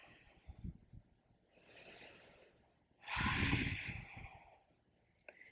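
Audible breaths during a yoga flow: a soft inhale, then a longer, louder exhale through the nose and mouth a moment later, close and unhurried, with a few small clicks near the end and no talking.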